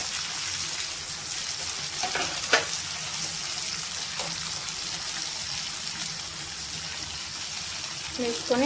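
Cucumber and tomato curry frying in a pan, a steady close hiss of sizzling with a few soft stirring scrapes, no talk over it.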